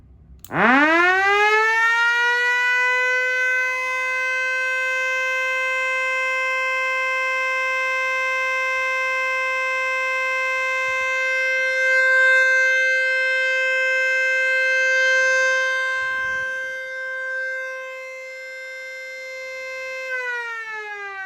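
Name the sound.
12 volt siren sounding an alert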